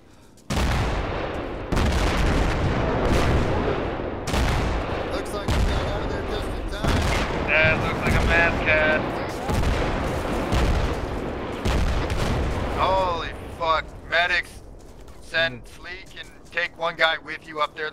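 Heavy mortar and gunfire barrage in ARMA 3 during an Iraq counter-insurgency mission, loud repeated booms and blasts filling the scene, with shouted voices joining toward the end.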